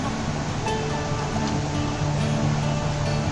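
A river flowing near a waterfall at San Lorenzo Ruiz, Camarines Norte, in rainy weather: loud, continuous rushing water close by, a steady roar with no voices.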